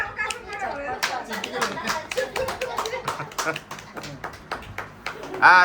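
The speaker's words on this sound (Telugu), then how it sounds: "చప్పట్లో" Hands clapping at a birthday celebration, a brisk run of sharp claps mixed with voices of children and adults chattering over them.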